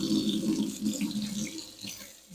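Tap water running steadily into a sink while a succulent plant is washed, a close continuous splashing rush that eases slightly near the end.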